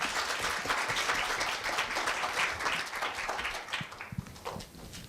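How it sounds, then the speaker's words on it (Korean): Steady audience applause fills a hall for a middle-school student speaker at a university speaking festival, dense clapping that holds strong for several seconds before thinning out toward the end. "큰 박수 부탁드리겠습니다."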